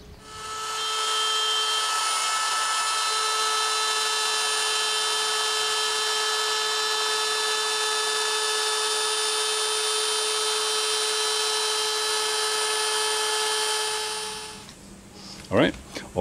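A power tool routing lane slots into a wooden slot car track, a loud steady high-pitched whine held for about fourteen seconds before spinning down, followed by a few brief knocks.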